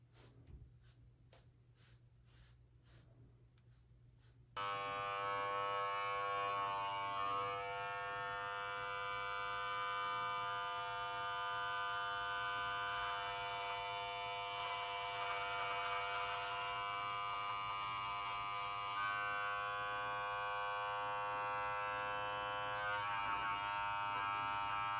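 Electric beard trimmer buzzing steadily and close for about twenty seconds after a few quiet clicks and breaths, with its tone shifting slightly as it moves over the facial hair.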